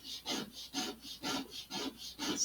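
Hand sanding of a wooden part for an Estes Black Brant XII model rocket, five even back-and-forth rasping strokes in a steady rhythm, close and fairly loud with no talking.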